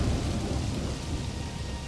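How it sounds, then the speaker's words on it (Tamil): Strong wind and rain start up in a Tamil cartoon, a loud, steady rushing roar of downpour and gusts with a low rumble, no voices. "வெளியே வேகமா காத்தடிச்சு மழை பெய்யவும் ஆரம்பிக்குது"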